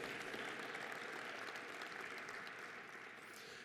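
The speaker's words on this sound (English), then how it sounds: "That deserves an applause, right?" Audience at a town's state-of-the-town address breaks into even, continuous clapping, faint and distant throughout, easing slightly toward the end.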